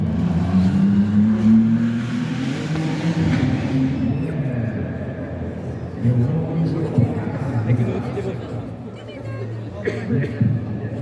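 Ferrari engines rumbling through a city-centre parade before the 24 Hours of Le Mans, low steady drone passing at moderate distance beneath a busy crowd and nearby people talking.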